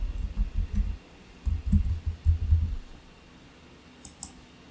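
Bursts of quick keyboard clicks from code being typed on a computer keyboard, two clusters of close, soft taps followed by a near-silent pause and a couple of isolated keystrokes.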